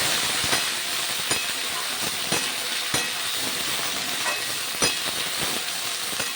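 Masala okra being stirred in a frying pan, a steady broadband sizzle and hiss with repeated soft scraping strokes at an irregular rhythm, close and continuous, with no voices.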